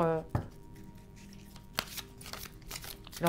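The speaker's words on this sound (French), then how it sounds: "donc je vais battre une carte pour leur" Tarot cards shuffled by hand at a cartomancy reading, a few crisp riffles and sharp flicks close by, opening under a brief bit of speech.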